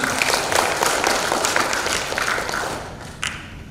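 Dense audience applause fills an Indonesian advocates' congress hall, steady and loud at first, then thinning toward the end, with one last brief burst of claps.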